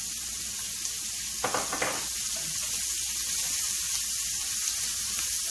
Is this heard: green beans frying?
yes